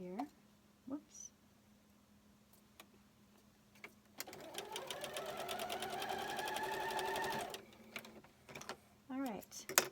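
A sewing machine stitches quilt pieces for a scrappy Valentine heart quilt, running in a steady close whir for about four seconds after scattered clicks and handling sounds, quiet overall.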